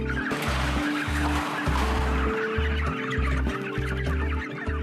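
Around seventy pastured chickens in a moved bottomless pen cluck steadily and continuously, a dense, rhythmic layer of clucks close by with no talk.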